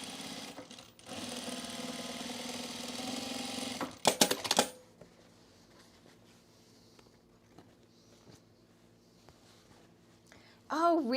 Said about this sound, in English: I sew the pocket facing on to the wrong side of the pocket